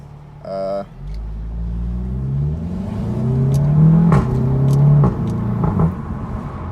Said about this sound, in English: There's a little bit of a crackle there as you downshift.